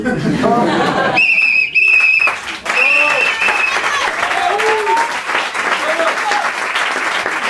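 Audience applause breaks out at a bar after an improvised theatre scene. It starts as sustained, loud clapping from a crowd, with whistles and cheers mixed in, and goes on steadily to the end.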